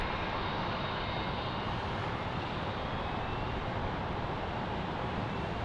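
Airplane engine roar at busy Minneapolis St. Paul airport, a steady, broad rushing drone at moderate distance with no voices.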